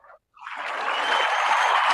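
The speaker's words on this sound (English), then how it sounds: "I've never received applause before." Studio applause greets a guest on a live talk show, rising quickly after a brief sound and silence into a sustained, fairly loud clapping wash.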